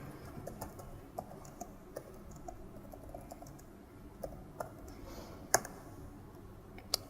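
Scattered key clicks from a computer keyboard, light and uneven taps with a few sharper strikes, fairly quiet over a soft room hum.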